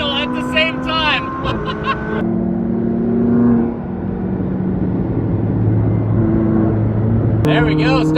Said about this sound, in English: It doesn't get much better than an SV and a GT3 in a tunnel at the same time.